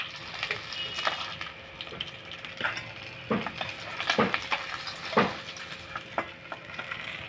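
Bay leaf, cumin, cardamom and cinnamon dropped into hot oil sizzle quietly, with a soft crackling hiss and several sharp stirring scrapes and clinks of a utensil against the pan.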